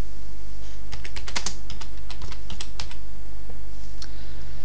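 Typing on a computer keyboard to enter text in a text box in Didapages: a rapid cluster of clicky keystrokes, close and distinct, followed by a couple of scattered later taps, over a loud, steady electrical hum with no speech.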